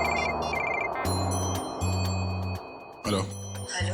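A phone ringtone chirps in repeated short melodic bursts over a dense, busy background.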